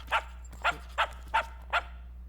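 A dog barks five times in a steady, evenly spaced series, each bark short, sharp and fairly close, over a faint low hum with no talking.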